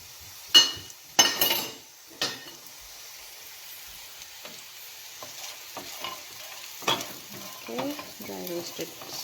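Pumpkin pieces stirred in a frying pan for a vegetable biryani, a few sharp spoon clanks against the pan early on, then softer scraping and a gentle sizzle, close and fairly quiet with no talking.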